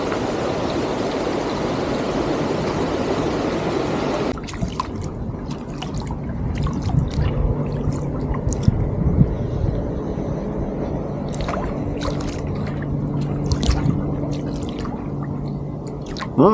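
A kayak is paddled back through calm water, opening with a loud rushing wash, then softer drips and trickles as the blade strokes and lifts, close and unhurried.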